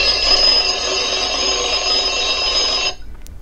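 EZVIZ electronic smart chime on sound 15 at raised volume, a harsh continuous electronic ringing buzz like an alarm clock bell, loud and close, holding steady for about three seconds before cutting off abruptly.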